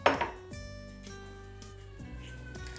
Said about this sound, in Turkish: Hamuru hiç yoğurmadan, el değdirmeden kaşıkla karıştıracağız